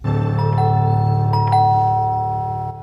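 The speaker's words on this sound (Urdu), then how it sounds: "یکایک مشہود نے زور سے گھنٹی بجائی۔" A bell rung loudly as a story sound effect, a bright metallic ding-dong with two quick strikes ringing out alone and slowly fading.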